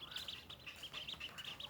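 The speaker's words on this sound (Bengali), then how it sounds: "আমরা কিছু হাঁসের বাচ্চা নিয়েছি" Ducklings being raised give faint, rapid, high-pitched peeps, repeated in quick bursts against a quiet background.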